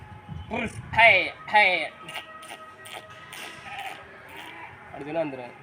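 A grazing village herd of goats bleats repeatedly nearby, several wavering calls overlapping and trailing off, with light shuffling movement underneath.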